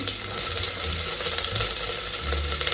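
Whole spices, cloves, star anise, cinnamon and bay leaf, fry in hot oil as a biryani base, giving a steady close sizzle with faint stirring scrapes throughout and no talking.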